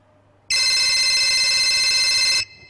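A telephone rings in one steady, continuous electronic trill lasting about two seconds, close and loud against a quiet room, then cuts off abruptly.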